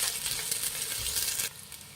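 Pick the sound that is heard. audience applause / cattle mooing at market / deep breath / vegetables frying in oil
vegetables frying in oil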